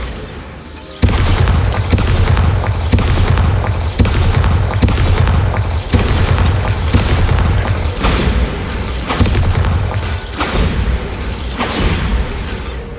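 Bombarda spell blasts in the video game Hogwarts Legacy go off as a steady run of loud, booming explosions, roughly one per second, with creaking, mechanical crackle between the hits and no talking.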